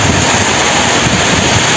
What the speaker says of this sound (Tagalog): ang lakas ng ulan. Oh, ang lakas pa ng hangin.